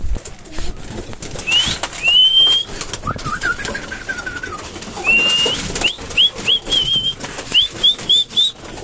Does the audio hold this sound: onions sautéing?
no